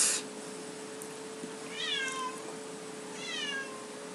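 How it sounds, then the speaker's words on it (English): A cat outside meows twice to be let in, two clear rising-falling calls a second or so apart, moderately close over a steady low electrical hum and room tone. "It's one of my cats wanting to get in."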